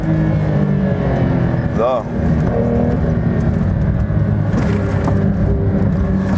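A Porsche 911 GT3 RS is driven gently to warm its cold tyres, its engine droning loudly and steadily from inside the car with a brief dip and pitch sweep as it shifts, while someone speaks briefly.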